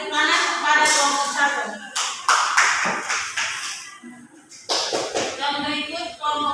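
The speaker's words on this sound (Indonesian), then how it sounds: "Mari kita beri tepuk tangan kepada kelompok" A class group receives applause from classmates, with bursts of clapping and hand taps that come and go in uneven patches, mixed with nearby voices.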